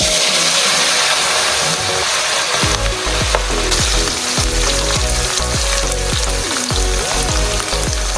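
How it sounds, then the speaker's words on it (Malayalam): Steady, loud crackling sizzle of beef pieces deep frying in hot oil, with occasional clinks of a utensil stirring through it. "ഇതുപോലെ കുറേശ്ശെ വീതം ഇട്ട് വറുത്ത് കോരി കിട്ടാം"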